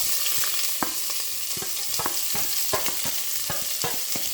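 Sliced onions and green chilies sauté in hot oil for a white chickpea curry, giving a loud, close, continuous sizzle. Repeated scraping and tapping strokes of a stirring spoon sound against the pan, with no talking.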